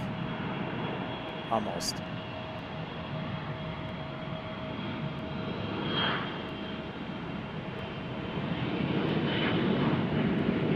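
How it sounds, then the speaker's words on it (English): An airplane departs from Boise Gowen Field in Idaho, its engine noise a steady broadband roar that swells toward the end, with a person talking over it. "our first departure of the mid-morning here"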